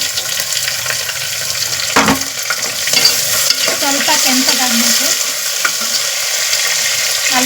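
Slit green chillies going into a hot frying pan of oil for tomato pulao, a loud close sizzle and crackle with stirring scrapes and a sharp knock, no talking.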